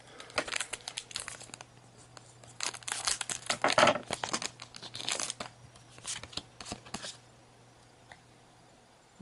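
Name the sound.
opening Pokémon Emerald Break booster card packs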